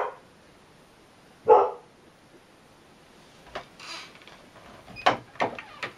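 A dog barks in short separate bursts indoors, one clear bark followed by several sharper barks a few seconds later, fairly close and alone without talk.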